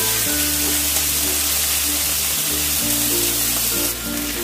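Chopped tomatoes hiss and crackle as they fry in hot oil in a pan, with a loud, continuous sizzle and faint stirring. A brief pause in the low hum comes midway, and there is no talking.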